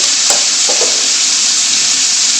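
Ginger garlic paste and chicken pieces frying in a karahi for white chicken karahi, a loud, dense, hissing sizzle throughout with a few faint knocks of stirring, close and without speech.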